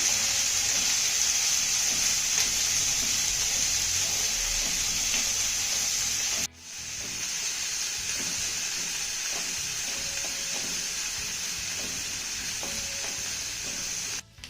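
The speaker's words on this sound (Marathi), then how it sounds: "शिमला मिरची आणि कांदा आपल्याला मौसूक होईपर्यंत परतून घ्यायचा आहे" Onion and chopped capsicum sautéing in a pan, a steady close sizzle with stirring scrapes that breaks off briefly halfway, then resumes just as steadily until a short stop at the end.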